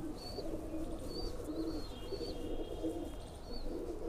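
Pigeons kept in a loft coo softly in repeated low throaty phrases, with a few brief high chirps from other birds over a faint background hum, no talking.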